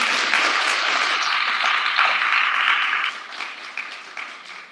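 An audience applauds speakers at a Dr. King commemoration in Carrboro, steady dense clapping that holds for about three seconds and then thins out, with scattered claps lingering near the end.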